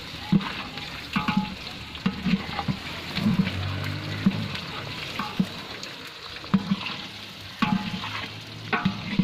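Khichuri frying on high heat gets stirred, with a continuous sizzle and repeated scraping strokes against the pot, fairly close, while faint voices and a low background hum sit underneath.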